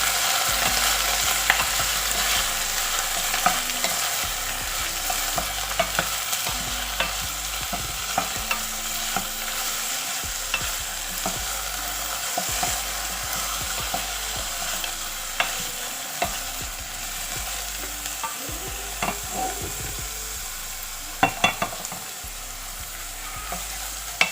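Eggplant frying in a pan as a side dish, a loud continuous sizzle with frequent stirring scrapes and spatula clicks throughout, no voices.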